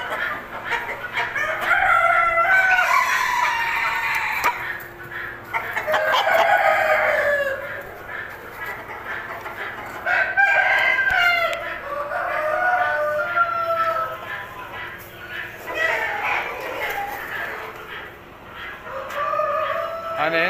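Indian-breed roosters kept among brooding hens crow repeatedly and loudly at close range, with clucking poultry chatter filling the gaps across the whole stretch.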